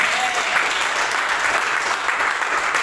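A church congregation at a Sunday service in Batam claps together, a steady, dense burst of applause filling the room throughout, loud and close with no speech over it.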